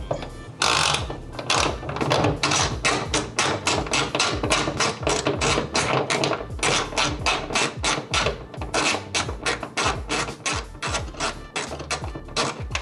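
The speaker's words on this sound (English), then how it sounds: "we're going to remove the lower nut here on this hood mount. So get that one out with your 12mm." A 12mm wrench backs off the lower hood mount nut on a 2022 Toyota GR86, producing a loud, steady stream of rapid metallic ratcheting clicks that runs almost without a break, close up and with no voices.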